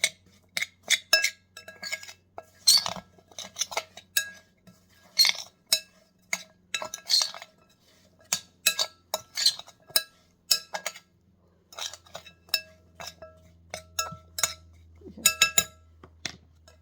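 Lamb curry ingredients mixed together in a bowl, with sharp clinks and taps of a utensil against the dish coming in quick irregular bursts, close and distinct over a quiet background.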